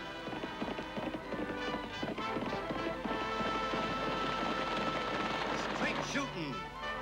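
Galloping horse hooves in an Annie Oakley western drama, a fast clip-clop rhythm mixed with music and scattered gunshot-like bangs, with an action soundtrack swirling throughout.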